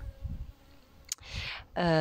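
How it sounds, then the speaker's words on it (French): A bee near garden flowers, its faint buzzing drifting in and out among other brief sounds, a short click and a louder tonal burst at the close. "Petite abeille qui est là-bas"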